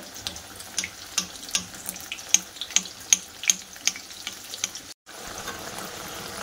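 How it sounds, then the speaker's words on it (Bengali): Potato slices for Bengali aloo phool pitha frying in hot oil in a pan, a steady bubbling hiss with brighter crackling pops that swell in the middle, then cut off briefly before resuming. "আলুগুলো সব ভাজা করে নেব।"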